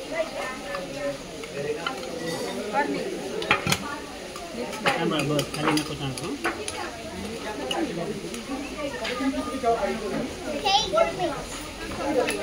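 Schoolchildren mix a chana vatana chaat of chickpeas, dried peas, tomato and onion in a bowl, with spoons clinking and scraping steadily while lively kids' voices chatter and call out throughout.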